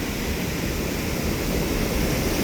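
Spray from the Little Mashel River Falls roars loud and close, a dense unbroken hiss of falling water and mist with no voices.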